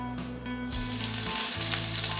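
Olive oil sizzling in a hot cast iron frying pan, a loud, close, steady hiss that swells slightly after the first moment and holds, no voices.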